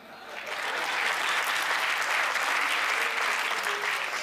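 An audience claps at a Hindi comedy poetry show, the applause swelling in within the first half second and then holding as a thick, even, sustained roar of many hands.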